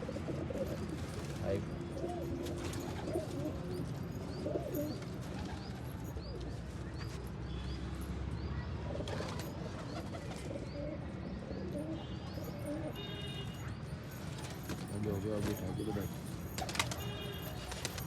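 Pet pigeons, among them a red-tailed king variety, coo in low, repeated rolling phrases close by, with light chirps and fluttering mixed in, while someone talks over them throughout.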